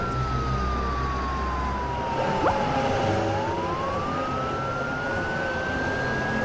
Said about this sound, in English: Police cars can make a siren sound.